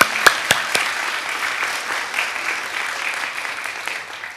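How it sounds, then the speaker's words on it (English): An audience at a college scholars cording ceremony applauds, a steady wash of clapping held at moderate distance, with a few sharp near claps at the start before it settles into even, sustained applause. "So round of applause for your support."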